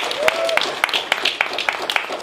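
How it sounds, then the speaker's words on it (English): An audience at a Congolese culture event claps in a brisk, moderately loud burst of applause, with a voice carrying over the clapping. "ladies and gentlemen, please a big applause for Mr. Alpha Abisa."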